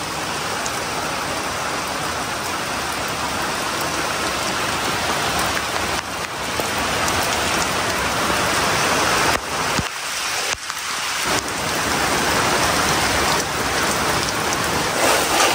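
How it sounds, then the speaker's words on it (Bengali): Heavy monsoon rain drums on a tin roof in a dense, continuous roar that stays loud throughout, with brief dips near the middle. "কত জোরে জোরে টিনের চালে পানি পড়তেছে, তারপর বৃষ্টি অনেক জোরে জোরে হচ্ছে।"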